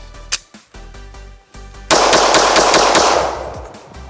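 A personal concealed-carry handgun fires a few separate shots, then a rapid string of loud, close gunshots blurs into a dense burst lasting about two seconds.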